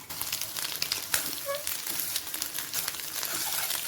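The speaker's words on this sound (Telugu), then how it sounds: "ఎగ్ ఈ విధంగా పెద్ద పెద్ద పీసుల్లాగా ఫ్రై చేసుకోవాలి." Eggs fry in large pieces in a pan for a Rayalaseema garlic-chilli egg dish, giving a soft continuous sizzle with light crackles and occasional scraping, fairly quiet and close.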